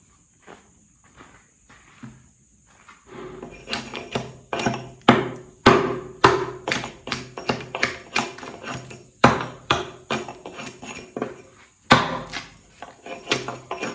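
Repeated sharp impacts of a tool gouging and planing a hewn log for a cabin build, irregular strokes that start faint and grow into loud, close chopping bursts, with a steady high insect-like hum behind.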